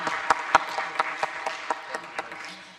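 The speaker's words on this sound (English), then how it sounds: "Let's give them one more round of applause, please." Thin, scattered applause from a small audience at a private sector forum: a few sharp individual claps stand out, then trail off over a couple of seconds.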